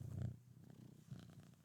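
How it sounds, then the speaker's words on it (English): A young kitten purrs up close on a microphone, a low, pulsing rumble that is strongest at the start, then continues more softly with a brief bump of contact noise. "Colby, you're purring into my microphone."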